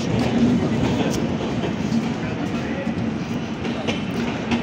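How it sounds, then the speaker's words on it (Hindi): Indore Patna Express passenger train at a platform in Sultanpur, a continuous loud rumble with clattering wheel noise, heard close and steady throughout with faint background voices. "और ट्रेन भी आ चुकी है शायद हमारी।"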